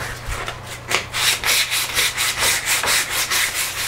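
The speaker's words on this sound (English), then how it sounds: "you can do a much finer detail with hand sanding than a machine sanding" Wood is hand sanded with rapid back-and-forth strokes, each rough scraping rub close and even in rhythm, for a decorative farmhouse-style air vent cover.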